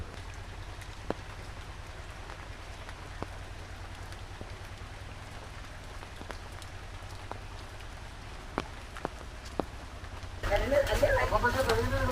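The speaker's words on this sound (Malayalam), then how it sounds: "വലിയ മഴയാണെങ്കിലും" Steady rain hisses continuously with scattered sharp drips, and a voice comes in near the end.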